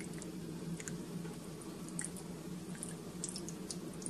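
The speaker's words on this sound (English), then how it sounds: "I'm just going to spread this out all the way through just to make sure that it's even" A spoon or spatula spreads a ricotta and baked ziti mixture across a big pan, giving soft, faint squishing and wet scraping with scattered small clicks, close and quiet without any talk.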